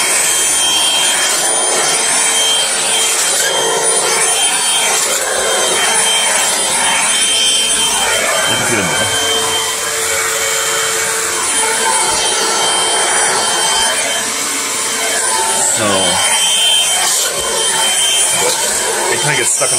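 A rechargeable stick vacuum rolling over carpet, a loud steady motor whine with rubbing, scraping passes of the head, with a voice speaking faintly at times.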